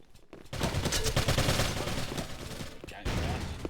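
Dense, continuous gunfire from a competitive video game match, with rapid overlapping shots crackling for several seconds and a brief lull near the start and another around the three-second mark.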